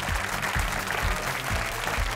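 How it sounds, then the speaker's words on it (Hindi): A studio audience claps for a silver medalist on a sports TV show, a steady, loud wash of applause with a regular low thumping beat underneath throughout. "लेकिन ये तालियां बंद नहीं होनी चाहिए"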